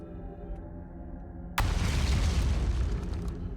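A sudden loud boom erupts in the space exploration game Outer Wilds, breaking a quiet ambient tone and leaving a dense, roaring rumble that fades slowly.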